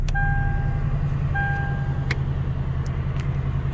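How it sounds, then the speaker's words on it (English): A V8 engine in a fourth-generation Toyota 4Runner idles steadily at close range, a low constant rumble, with a couple of electronic chimes sounding early on. "Turn the car on."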